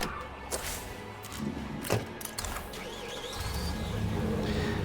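A vehicle engine idles and rumbles in State of Decay 2, a low steady drone swelling toward the end, mixed with scattered game sounds and clicks at moderate level.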